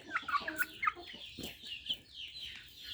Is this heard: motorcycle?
no